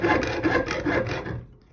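Jeweler's saw cutting through metal in quick back-and-forth rasping strokes, about five close scrapes that fade out near the end, with no talk.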